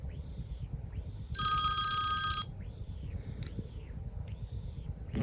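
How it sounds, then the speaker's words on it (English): The Old Phone ringtone on an iPhone 15 Pro sounds as one bright metallic bell trill lasting about a second, between soft swishing scroll-wheel clicks. "Then old phone."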